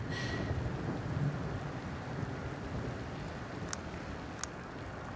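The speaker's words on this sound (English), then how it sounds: "The storm must be causing interference." A thunderstorm in the game The Invincible: steady, heavy rain noise fills the whole stretch, with a low rumble of thunder early on and a couple of brief sharp crackles later, no voices.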